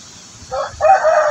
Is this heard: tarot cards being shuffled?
no